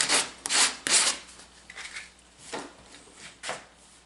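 Hand sanding of wood with sandpaper, a few short scratchy strokes in uneven bursts, close and fairly quiet with pauses between passes.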